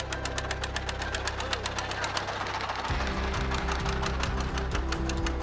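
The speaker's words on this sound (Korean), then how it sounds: "경운기 엔진을 단 그야말로 통통배입니다" A small wooden putt-putt boat powered by a farm tiller engine chugs on the Indian Ocean off a remote Indonesian island, a steady rapid knocking beat that shifts to a deeper, louder thump midway, with a voice talking over it.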